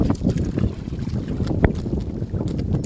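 Wind rushes steadily over the microphone on a fishing boat on open water, with low churning and small splashing waves close by.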